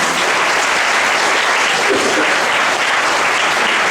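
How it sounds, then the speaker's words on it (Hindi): Steady, dense applause from a party audience fills the hall, loud and continuous without a break from start to finish. "आदर्श पटेल के लिए भी मैं चाहूंगा सभी लोग तालियां बजाएं।"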